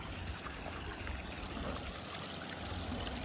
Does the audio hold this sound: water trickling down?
yes